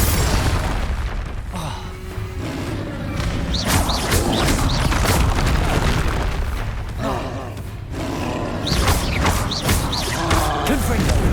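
Blasting spell explosions and impacts in the Hogwarts Legacy video game, loud booms and crashes recurring throughout amid dense game combat noise and music.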